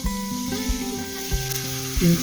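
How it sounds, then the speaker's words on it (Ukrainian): Oil sizzles steadily in a pan as onion fries, a close, continuous crackling hiss with faint clinks and stirring. "І все це я підсмажую"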